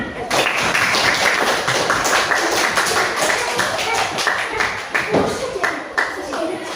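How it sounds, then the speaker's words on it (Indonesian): Children in a classroom game clap their hands together, a fast run of crisp claps close by, with young voices mixed in. "Yesus berkata, tepuk tangan."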